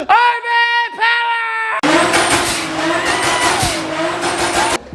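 A Toyota 2JZ car engine revs loudly nearby in two sharp bursts, then roars steadily at high revs for a few seconds before cutting off.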